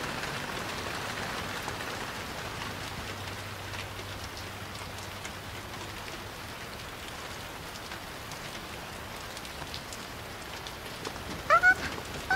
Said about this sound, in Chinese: 下这么大雨